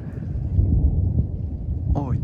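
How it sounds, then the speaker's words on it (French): Thunder rumbles continuously through a thunderstorm, a heavy low roll that holds across the whole stretch without breaking. A voice cuts in briefly near the end. "Oh le tonnerre, il s'arrête jamais."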